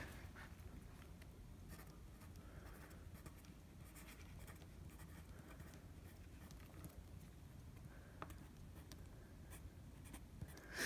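Pencil scratching across paper as a name and date are written at the top of a page, a soft continuous rasp of small strokes heard close up and fairly quiet, with no talking.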